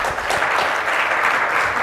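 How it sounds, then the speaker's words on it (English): A steady round of audience applause at an evening gathering honouring teachers, dense and even, with clapping throughout. "we should give another round of applause to that"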